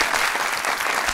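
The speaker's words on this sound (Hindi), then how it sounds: "अरे वाह, इस पे भी तालियां।" A television studio audience claps in a dense, even burst of applause that lasts only a moment, loud and close, without speech over it.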